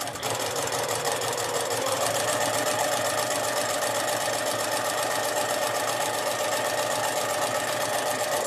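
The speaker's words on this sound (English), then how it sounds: "we're going to sew down both sides of it a 1/4 inch away" A sewing machine stitches quilt fabric a quarter inch from a drawn line, running in a fast, steady rattling hum for several seconds, close and alone.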